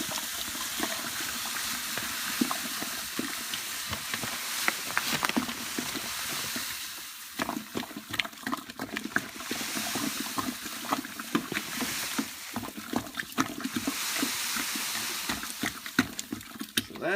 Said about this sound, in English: So I'm going to start adding that in here and making sure that I get everything stirred up real well.